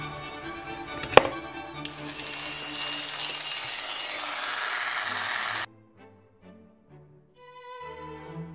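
A small Mini 4WD plastic part being sawn off, preceded by light handling clicks and a sharp tap, then a few seconds of continuous close, bright cutting noise that stops abruptly, followed by quieter tonal sounds.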